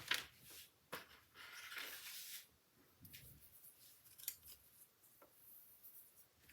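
Scissors snip through paper card pieces in a crafting session, a few close, crisp cuts and slicing strokes separated by pauses, with light paper rustling in between.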